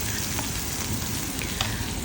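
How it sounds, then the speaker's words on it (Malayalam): Onions sizzle steadily as they fry in hot oil until brown for a fish curry, a close, continuous crackle with no talking. "എല്ലാം കൂടെ ചേർത്തിട്ട് നന്നായിട്ടൊന്ന് വറുത്ത് വറുത്ത്"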